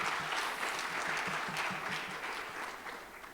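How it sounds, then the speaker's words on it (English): Conference audience at a women in cybersecurity event applauding a speaker, a steady full wash of clapping that holds for a few seconds and tapers slightly at the end. "if you could please give a round of applause to Miss Rachel Babins."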